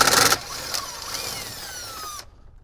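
Power tool spinning out the single 10mm bolt holding the factory amplifier in a Jeep Wrangler, a close, loud whir that starts with a harsh burst, then settles into a steady winding-down whine before stopping abruptly.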